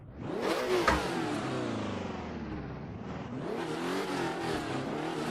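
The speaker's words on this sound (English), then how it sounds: "2 litre inline 6. Holy moly. It sounds like a V12." A 2-litre inline-six race car engine in Assetto Corsa revs hard, its high-pitched tone climbing, dipping slightly and climbing again in a continuous close howl.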